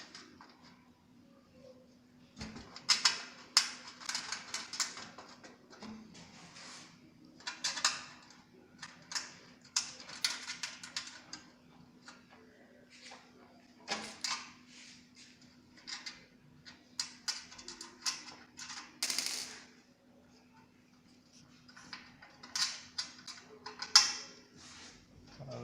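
A screw is fitted into a PC case with scattered metallic clicks, taps and small scraping bursts in irregular clusters, close and fairly quiet.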